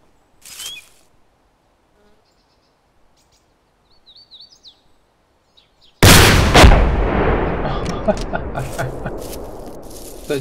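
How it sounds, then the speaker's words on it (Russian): RPG launch and explosion in the military video game ArmA 2 ACE: a sudden loud blast followed by a long rumbling roar and debris, after faint birdsong and a short earlier pop in a quiet forest. "Выстрелил тебя из РПГ."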